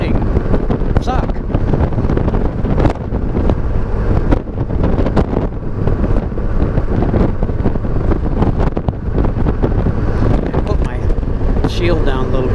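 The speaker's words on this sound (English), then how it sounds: "you hear that wind? Lord, it's just blasting me from the right-hand side." Strong wind roars steadily into the microphone while riding, a constant heavy buffeting from the right side that fills the whole clip.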